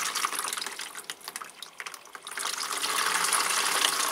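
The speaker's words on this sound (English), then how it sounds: "So we'll just give this Philippinense a good watering" Water pours steadily over a potted Philippinense orchid, splashing and trickling irregularly at first, then settling into a louder, even gush for the last couple of seconds.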